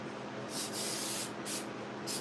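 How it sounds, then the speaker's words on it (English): Short bursts of accelerant sprayed from an aerosol can onto wood glue during a woodcarving session, four quick hissing sprays in an uneven rhythm, close and fairly quiet. "spray it with accelerant"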